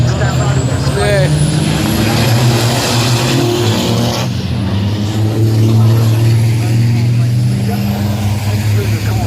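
Racing trucks in the 2018 British Truck Racing Championship final at Brands Hatch roar loudly through Graham Hill Bend and down the straight, continuous heavy engine drone with shifting pitch, under a commentator's excited voice throughout.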